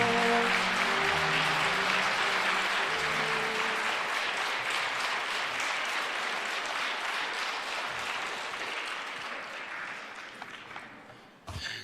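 A church audience claps loudly to welcome a bishop, dense sustained applause that slowly thins and fades over about eleven seconds, with faint music at the start and a brief clatter at the end.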